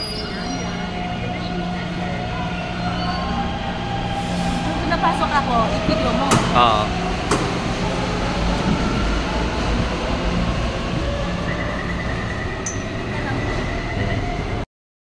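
An MRT metro train rumbles along on a crowded ride, with wheel and track noise and occasional squeals throughout, while passengers talk briefly over it.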